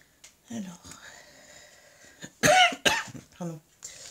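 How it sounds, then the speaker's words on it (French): A person coughs a couple of times, sharp and close, between quiet breaths and faint sounds. "Il y a des moments, je tousse comme ça."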